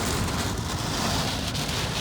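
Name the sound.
rain falling during road trip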